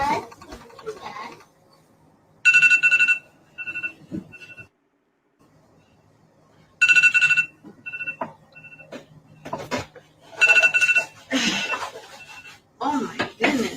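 A telephone ringtone chimes in repeated bright bursts, clear and close, with talking and rustling heard between the rings.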